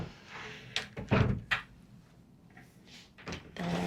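A sliding closet door in a Disney Wish cruise ship cabin rolls and thumps several times, with short knocks and a soft slide near the end, close and fairly quiet in a small room.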